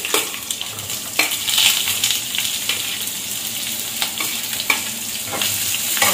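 Prawns and onion frying in a pan for a village-style prawn gravy, a loud close sizzle broken by repeated clacks of a stirring utensil against the pan.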